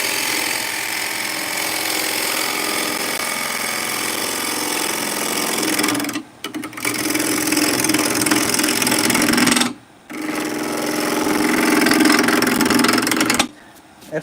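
A woodworking machine cuts wood with a loud, steady mechanical roar. It drops out briefly three times as the cutter passes between wood and air, then comes straight back each time.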